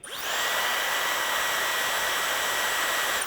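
An original Dyson hair dryer running at full power in hot mode gives a steady, loud, high-pitched whine and airflow hiss that starts up quickly and holds constant, close to the microphone, alone and without talk.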